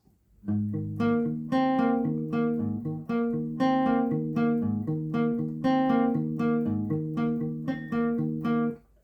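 An acoustic guitar plays a steady, rhythmic chord pattern from a song, repeated strums cycling through a few chords, ending abruptly on a single bright chime-like harmonic.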